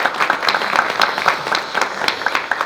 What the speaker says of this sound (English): So let's give him a nice round of applause.